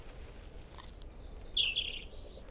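Small woodland birds, sparrows among them, chirp in Sherwood Forest, with short bright tweets and a louder call near the middle, heard close and clear over quiet outdoor background hiss.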